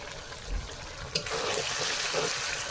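Water poured into a pan of simmering curry makes a steady wash of trickling and splashing, starting after a brief clink and continuing evenly to the end, close and moderately loud.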